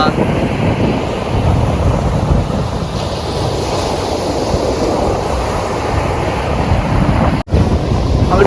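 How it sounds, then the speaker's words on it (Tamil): Sea waves wash and break continuously on Sayalkudi beach at sunset under heavy wind buffeting on the microphone, a dense, loud roar throughout with a brief dropout near the end. "இந்த அலையெல்லாம் பாருங்கமே."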